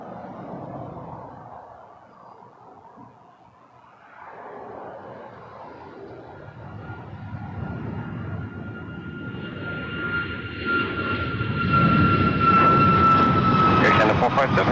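A WestJet jet lands on runway 24 left at Toronto Pearson Airport. Its engine roar rises steadily from a distant rumble to a loud, close whine and rush, with tower radio chatter over the start.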